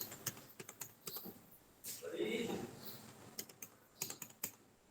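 Keys clatter on a computer keyboard as a Tally accounting voucher entry is typed, in irregular quick taps and short bursts, with a soft murmur of speech in the middle.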